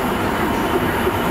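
A short freight train of empty wagons rumbles past close by, a loud continuous rolling roar with wheel clatter throughout the brief clip.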